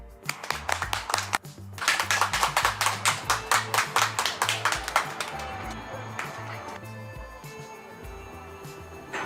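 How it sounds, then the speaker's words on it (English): Rhythmic clapping from spectators at an air show on Chennai's Marina Beach: a run of sharp, evenly spaced claps that fades out partway through, heard over music and crowd noise. "Big round of applause to you, please"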